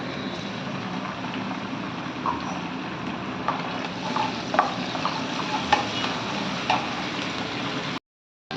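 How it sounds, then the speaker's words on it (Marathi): Finely chopped tomato goes into onions frying in a pan, with a steady soft sizzle and occasional scraping stirs and small clicks up close. "आता आपण टोमॅटो घालणार आहोत, बारीक चिरलेला।"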